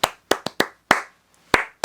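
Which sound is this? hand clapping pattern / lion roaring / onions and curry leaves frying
hand clapping pattern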